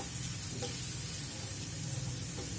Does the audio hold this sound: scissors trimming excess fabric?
no